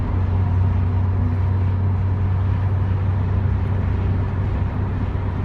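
A Porsche 944 cruises at speed with a steady low engine drone around 2,900 revs, heard from inside the cabin with constant road and wind rumble and no talk.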